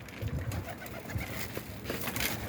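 Pigeons cooing nearby in soft, repeated calls over a steady outdoor background hum.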